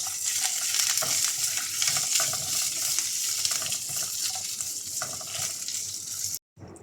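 Dried red chillies, garlic cloves and curry leaves stirred in hot oil for a chicken curry, giving a steady loud sizzle with spoon scrapes throughout and a brief cut to silence near the end.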